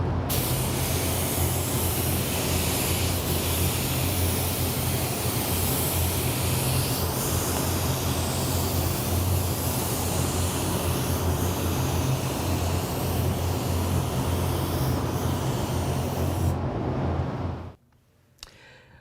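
An Iwata LPH 300 spray gun with a 1.3 tip, run at 18 PSI, lays a coat of clear over painted artwork, giving a continuous loud airy hiss for about seventeen seconds before cutting off abruptly.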